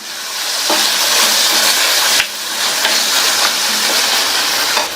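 Small tomato pieces sautéing in a pan produce a loud, dense, hissing sizzle that runs steadily, with a brief break midway and faint clicks of stirring.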